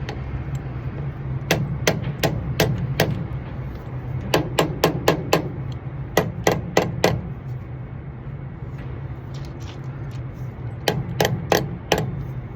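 Sharp hammer blows ring out in quick bursts of three to five strikes, separated by short pauses, over a steady low background hum.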